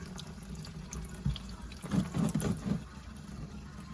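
Engine oil pours from the drain of a 2015-2017 Mustang GT into a catch pan, a soft liquid trickle that builds into a splashing stream in the middle, close by and with no talk.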